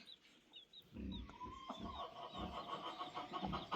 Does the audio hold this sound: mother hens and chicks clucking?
yes